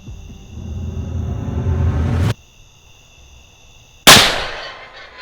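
A loud rifle shot fired at a hog from about 20 yards out on a farm, one sharp blast with a short decaying tail, following a stretch of outdoor rumble.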